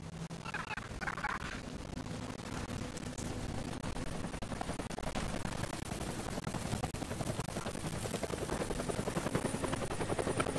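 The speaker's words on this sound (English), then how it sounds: "That's the helicopter chasing my friends." A helicopter in the video game Deadlight, a continuous loud rotor chop throbbing through the whole stretch, with scattered bursts that may be gunfire mixed in.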